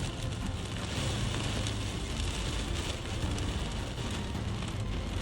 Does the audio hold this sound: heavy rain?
yes